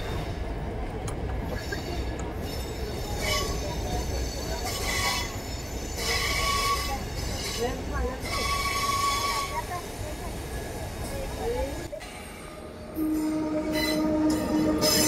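A passenger train runs on rails at speed, heard from onboard with continuous rumbling wheels, clattering, and high metallic squeals, and a brief horn-like tone near the end. A voice talks faintly underneath.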